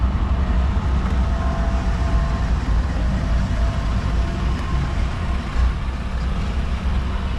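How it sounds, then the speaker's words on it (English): A passing train produces a continuous low rumbling roar throughout, broad and steady without clear breaks, filling the background outdoors near a 2019 Jeep Wrangler. "Excuse the train that's going by."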